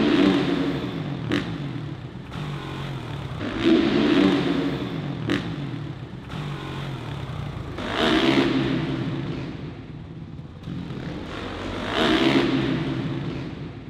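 A motocross motorcycle revs repeatedly during freestyle ramp training at an indoor supercross event in Dortmund, loud, close engine surges rising and falling about every four seconds over a constant background roar.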